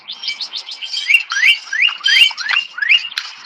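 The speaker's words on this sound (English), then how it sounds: "Nice birds." Small songbirds chirp outdoors in quick repeated tweets and rising whistled calls, a busy, fairly loud chorus close by with no talking.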